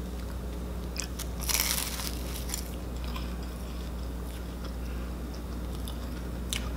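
A vegan blueberry danish is bitten into up close, giving a few short crisp crunchy bursts followed by quieter chewing against a steady low background hum, with no talking.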